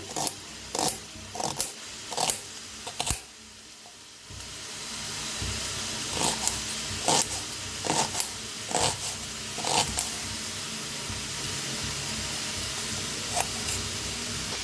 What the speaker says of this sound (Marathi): आता कांदा बी असा बारीक असा कापून घेऊया।